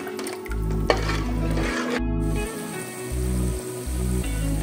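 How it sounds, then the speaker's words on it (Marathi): Bubbling and sizzling of Goan-style mackerel fish curry gravy boiling in a pan, with a steady simmer and a pulsing low hum underneath, close and alone. "रश्श्याला अशी मस्त उकळी आलेली आहे"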